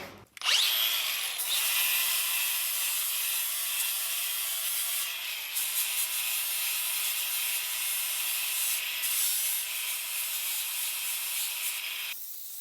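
Power sanding with 40 grit on the frame of an abandoned 1974 Ford F250 Custom with a 360 V8, a loud, continuous harsh grinding rasp that starts abruptly and runs steadily before cutting off.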